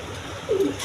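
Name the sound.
Danish pigeons cooing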